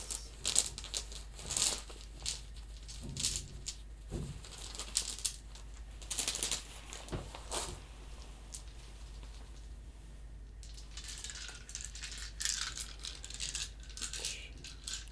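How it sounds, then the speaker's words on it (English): Plastic dice rattle and clatter in a bag in bursts, a soft crinkly shuffling with irregular clicks close by, pausing briefly between handfuls. "dice just kind of have a pleasing sound to them"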